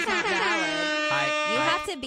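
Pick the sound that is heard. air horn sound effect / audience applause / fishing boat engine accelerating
air horn sound effect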